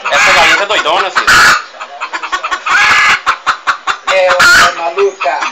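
An agitated hen clucks and squawks up close in repeated bursts of rapid calls, with a few loud harsh cries between them.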